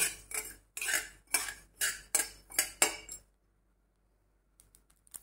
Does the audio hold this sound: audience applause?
no